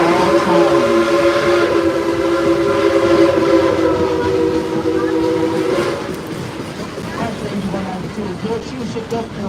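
Dollywood Express engine 192, a 2-8-2 steam locomotive weighing about 211,000 pounds, sounds a long sustained multi-tone whistle over the rumble of the moving train ride, then the whistle stops and only the rolling clatter continues.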